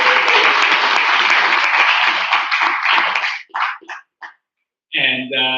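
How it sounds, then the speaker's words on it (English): An audience at a school public speaking competition claps loudly in a dense, sustained burst of applause that thins into a few scattered claps, with a brief lone vocal sound near the end. "please give yourselves a round of applause"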